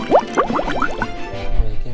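Water poured into a pot of Filipino pork kare kare seasoned with turmeric and black pepper, a short burst of gurgling, rising fill sounds and splashes close by, fading to a low simmer.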